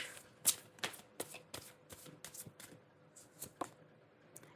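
Large cards are handled and placed one by one, giving a series of crisp, close slaps and rustles in an irregular rhythm against a quiet background.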